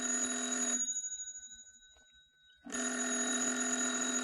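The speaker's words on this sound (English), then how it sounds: "Daisy, the phone. It's ringing" A telephone bell rings loudly in a rapid trill, pauses for about two seconds, then rings again, close and clear with no voices.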